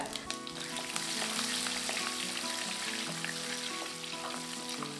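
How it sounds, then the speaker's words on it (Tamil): Steady, close sizzling of onions frying in a hot pan, with occasional stirring clatter throughout; no voices. "இப்போ வெங்காயம் வதங்கிடுச்சுங்க."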